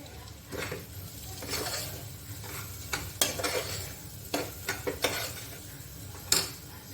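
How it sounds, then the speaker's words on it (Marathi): Oil sizzles steadily in a pan as spices temper for dal fry, while a spoon stirs and scrapes, with several sharp metallic clinks against the pot. "आपली फोडणी खूप छान खमंग दिसते आहे"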